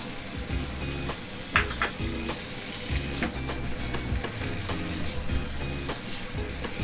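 Fried eggs cook in korma masala in a pan, a steady sizzle with frequent spatula scrapes and knocks against the metal, close and fairly busy.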